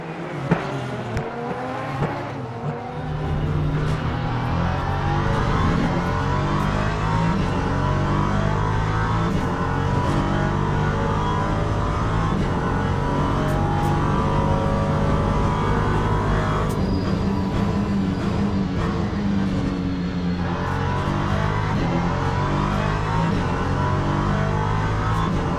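LMP3 prototype race car engines in the Le Mans Ultimate video game drone loud and steady, a constant high-revving roar that shifts through gears, with brief lifts as another slower car comes up ahead.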